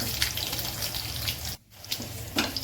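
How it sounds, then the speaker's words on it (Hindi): Water pours and splashes into a cooking pan in the kitchen, where a fried dhokla tempering is being browned. The gushing runs continuously, breaks off briefly, then resumes with a couple of louder splashes. "तो अब इसमें मिलाऊंगी मैं पानी इसके हिसाब से"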